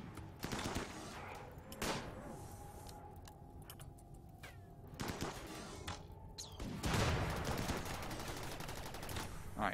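Gunfire in the video game RimWorld, with several loud bursts of rapid shots separated by quieter stretches of a low hum and tones.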